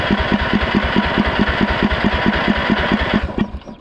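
An old small engine on worn equipment runs briefly with a steady, rapid putter of evenly spaced firing pulses, loud and close, then cuts out near the end, no talking.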